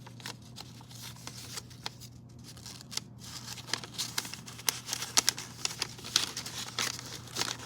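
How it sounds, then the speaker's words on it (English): Paper being crammed into the open slots of a knife handle, giving close, dry crinkling and rustling with scattered sharp crackles and brief pauses, no talk. "Maybe I could cram a piece of paper up in there and show you."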